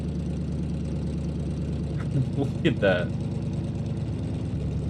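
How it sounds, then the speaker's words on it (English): Idling rumble from a simulated 21-litre engine swapped into a Corvette in BeamNG, running in gear with the tyres spinning: a steady low, throbbing drone throughout, with a brief speaking voice over it partway through. "I'm idling in gear and it just spins the tires like that."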